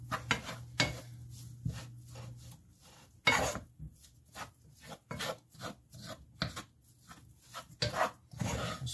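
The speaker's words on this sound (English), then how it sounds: "What we need to do is just cook up this ground beef first." Ground beef cooks in a pan, with a utensil scraping and pushing the meat in irregular rasping strokes that come close and clear, separated by brief quiet gaps, with no talking.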